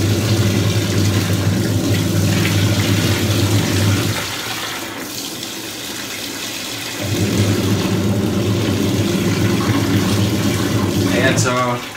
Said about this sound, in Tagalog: Dagdagan pa natin ng konting tubig guys.